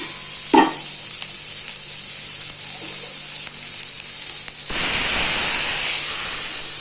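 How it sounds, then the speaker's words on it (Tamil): Goat head curry masala simmering in a pan after water is poured in, a steady frying hiss that jumps to a louder, brighter sizzle and steam about two-thirds through, with a brief stir or clink near the start and no talk. "இது நல்லா கொதிக்கட்டும்."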